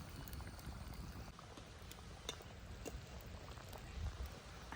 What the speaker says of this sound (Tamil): இது நல்லா இப்போ கொதித்து வேகணும்